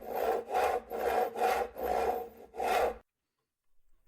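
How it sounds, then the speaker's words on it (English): A fine-tooth hand saw cuts through a wooden board for a battery box on an MTD Ten Hundred, six steady rasping strokes close by, then silence. "I always use my thumb to start the cut with a fine-tooth saw"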